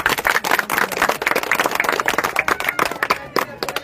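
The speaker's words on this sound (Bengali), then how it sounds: "সেই কাজলের জন্য সবাই মিলে একবার জোর হাততালি।" A crowd claps loudly together in a sustained, dense burst of applause with sharp overlapping hand claps close by, fading slightly toward the end.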